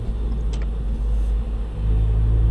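Car accelerating up a highway on-ramp in a game, a loud, steady low engine rumble that swells slightly toward the end.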